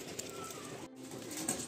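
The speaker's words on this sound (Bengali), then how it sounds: "পায়রার উড়ানো দেখাচ্ছি আপনাদের" Madrasi pigeons at a loft give soft, low cooing close by, with a brief rustle that may be wings as birds move about.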